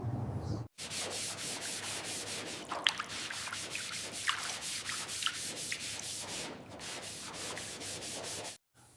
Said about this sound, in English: After the primer has fully cured, we'll give it a light sanding